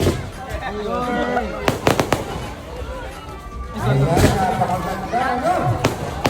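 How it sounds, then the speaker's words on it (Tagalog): Fireworks at night at a town fiesta in Mindoro, Philippines, pop and crack in scattered sharp bursts, some in quick clusters, over a busy crowd with people talking and calling out throughout. "ang daming fireworks!"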